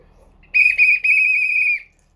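A whistle is blown in one sharp, loud, shrill blast, with two quick chirps leading into a sustained tone of about a second, then silence.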